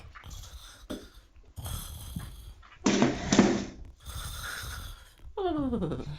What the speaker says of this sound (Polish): Babcia śpi na stojąco? No tak, nie słychać jak chrapie?